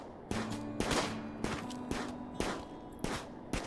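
Pistol gunfire in the RimWorld video game, a string of about seven sharp shots spaced roughly half a second apart, moderately loud over a low steady background hum, no talk.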